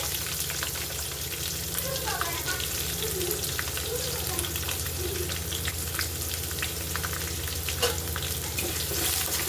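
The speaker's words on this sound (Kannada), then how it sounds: "ಎಲ್ಲ ಗೋಲ್ಡನ್ ಕಲರ್ ಬರೋ ಫ್ರೈ ಮಾಡ್ಕೊಳ್ಳಿ" Onions, green chillies and curry leaves fry in hot oil, a steady dense sizzle and crackle that runs unbroken, close up, with faint occasional stirring clinks.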